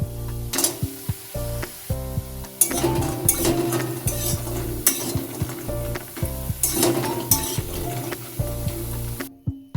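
Bori, Bengali lentil dumplings, frying in a pan for a vegetarian ash gourd dish: a steady sizzle with scrapes and clinks of a spatula stirring, and background music running throughout.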